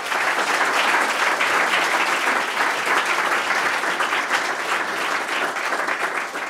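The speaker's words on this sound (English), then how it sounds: "very nice to get a round of applause before we open our mouths" Warm, continuous applause filling a lecture theatre as an audience welcomes a panel at a university alumni networking event, steady and fairly loud throughout with no talking.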